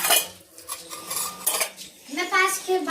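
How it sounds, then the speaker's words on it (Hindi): Dirty dishes and metal utensils are gathered up for washing, giving sharp clinks and clatters of cutlery against pots and plates in quick, uneven bursts, close and fairly loud. "तो गाइस ये रखे हैं बर्तन, इनको मैं उठा लेती हूँ धोने के लिए।"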